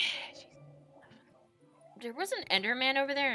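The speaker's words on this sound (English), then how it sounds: "excuse my dog making sounds" A dog whimpers and yips in a run of high, harmonic whines near the end, close and fairly loud, after a stretch of quiet talk.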